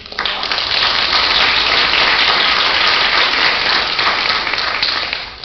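An audience at a school board meeting applauds Coldwell Banker Gosley, with a thick, rain-like wash of many hands clapping that swells quickly, holds steady and tapers at the end.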